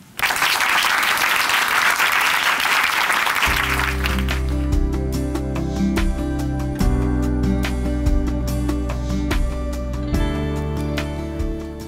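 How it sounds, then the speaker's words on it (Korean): A studio audience at a Korean Christian broadcast applauds to welcome a guest speaker, a bright burst of clapping that fades after a few seconds as soft music enters and plays on. "박수로 모실게요."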